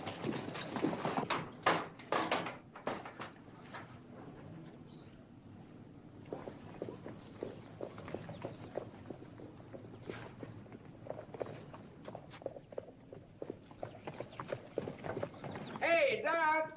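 Horses walking with hooves clip-clopping in a Western film scene, a steady uneven rhythm of close hoofbeats continuing throughout, louder at the start and end, with faint background noise.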